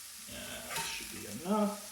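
Indian mackerel fillets fry in a hot pan, a bright crackling sizzle with a brief stirring scrape and a short tonal squeak near the end.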